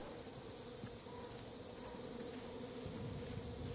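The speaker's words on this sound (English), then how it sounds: "Bees. I can hear them. Bees." A swarm of bees buzzes continuously in a video game, a low, steady drone holding at a fairly faint, even level throughout with no talking.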